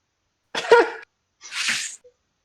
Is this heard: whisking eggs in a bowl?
no